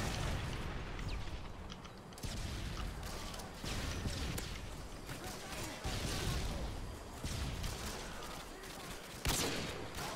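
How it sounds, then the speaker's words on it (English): Predator missile strike in the video game Call of Duty MW2, a busy, loud battle din of bursts and booms swelling and falling in waves, with a sharp heavy hit near the end. "Friendly predator missile inbound."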